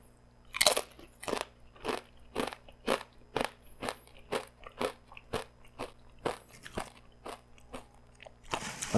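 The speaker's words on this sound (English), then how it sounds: "Was not expecting that crunch." Loud, crisp crunches from biting and chewing a crunchy tortilla chip served with guacamole, about fifteen sharp bites and chews in a steady rhythm, close up with no talking.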